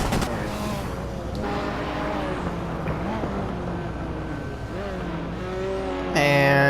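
A Mazda RX-7 leads a race in a Hot Wheels video game, its engine a steady, rising and falling whine with shifting pitch that carries on without a break, then louder game sound bursts in at the end.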